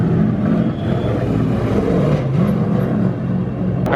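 Race cars practise at Las Vegas Motor Speedway, heard as a steady low engine rumble and whir from a distance, with no clear pass-bys and no talk.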